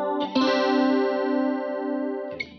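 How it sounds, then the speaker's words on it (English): A Stratocaster electric guitar runs through a mono chorus effect placed ahead of the overdrive, as one strummed chord rings out with a gentle shimmering wobble, fading slowly before a light pick noise at the end. "Strat with chorus."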